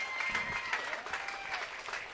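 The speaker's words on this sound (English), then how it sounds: "So please give our Queen and the Cinco de Mayo court a round of applause." An outdoor Cinco de Mayo celebration crowd applauds the queen and her court, a dense patter of clapping with scattered whoops, moderately distant and steady throughout.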